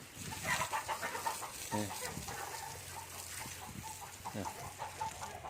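Chickens clucking close by in an outdoor farmyard, several short repeated clucks and calls, mixed with splashing and background noise.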